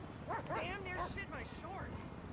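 A dog barks and yips in GTA V gameplay, a quick run of short, moderately loud yelps and whimpers with voices talking over them.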